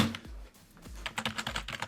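Keys tapped on a cheap gaming membrane keyboard, a few soft, dull keystrokes followed by a quicker run of close, light typing.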